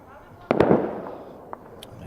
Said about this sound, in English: There's those fireworks again.